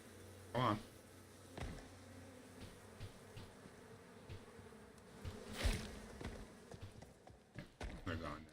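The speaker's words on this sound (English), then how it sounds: "Cave bees." Bees buzz inside a cave in a video game, with faint droning and scattered game effects and footsteps, and a horse companion nearby, all under quiet background sound.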